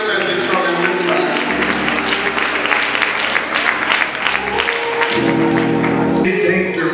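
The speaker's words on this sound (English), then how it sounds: "Clap your hands for them as they come in this way" Audience clapping at a church anniversary concert as a gospel choir files in, steady applause throughout with voices and music-like tones sounding underneath.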